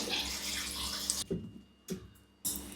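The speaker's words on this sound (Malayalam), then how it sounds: "ഇനി വെള്ളം ഒഴിച്ച് കൊടുക്കണം" Water splashes steadily into a pot of sambar dal and chopped vegetables for about a second, then stops; a few short bursts of pouring follow with quiet gaps between.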